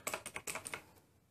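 Quick mechanical keystrokes on a Razer BlackWidow Ultimate Chroma keyboard, about eight crisp clicks in a rapid burst, close and clear, then quiet.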